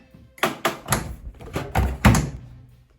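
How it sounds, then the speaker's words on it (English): A Gorenje WaveActive washing machine door opens and laundry goes in as a quick series of about six soft thunks and bumps, close by and irregularly spaced, then quiet. "Open the door really quickly and put in the laundry."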